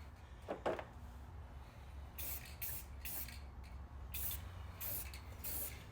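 Aerosol satin black paint sprayed onto a Nissan D21 truck bumper in a garage: four or five steady hissing bursts close by, separated by short pauses, over a low hum.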